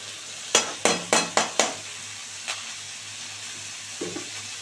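Washed bathua greens go into a pan of frying shrimp, giving five quick rasping stir scrapes in a burst, then one soft scrape and a fainter clatter later over a quiet, steady sizzle.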